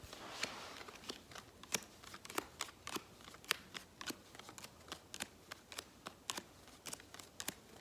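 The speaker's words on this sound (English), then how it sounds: "You have to deal out 7 cards to each player." Uno playing cards are dealt out one by one, seven to each player, giving a steady run of crisp, close, quiet snaps at roughly two to three per second.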